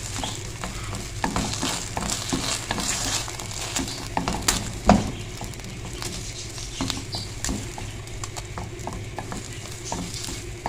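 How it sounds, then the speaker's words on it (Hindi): Potato sandwich stuffing with mayonnaise and ketchup is stirred and mashed in a bowl, giving a continuous wet squelching and scraping with a few louder spoon knocks. "और अब हमने इसको अच्छे से मिक्स कर लेना"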